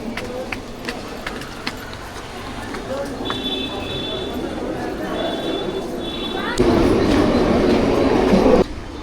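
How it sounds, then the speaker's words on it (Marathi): An AC local train bound for Churchgate rolls into a Mumbai suburban station with rumbling and clattering, brakes squealing in short high bursts, while people talk nearby; the noise swells louder toward the end. "आता ही ए सी लागली चर्चगेट दहा अठ्ठावनची"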